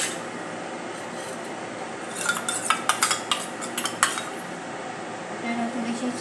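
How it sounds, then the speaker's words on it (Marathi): Mayonnaise is spread on bread with a utensil: a quiet room tone breaks into a short run of light scrapes and taps mid-clip, then settles again. "अशा प्रकारे मेयोनीज लावून घेऊया"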